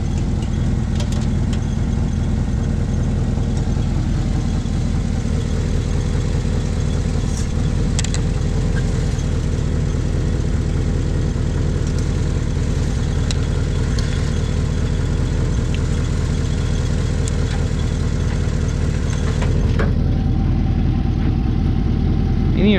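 A cammed maroon truck with a 4L60 transmission idles while warming up after sitting all winter, a loud, continuous, lumpy rumble that stays steady and close throughout, with no voices.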